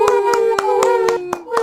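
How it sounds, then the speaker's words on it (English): A small group claps in a quick, even rhythm, about seven sharp close claps in under two seconds during an online art lighting critique, with a faint voice behind them. "You deserve a clap and applause as well"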